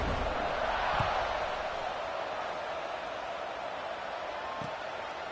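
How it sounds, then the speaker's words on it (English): A football stadium crowd at kickoff in a college football game, a broad distant roar of many voices holding steady throughout, with a couple of faint thuds. "They're set to kick it off, and this crowd now ready to get behind them."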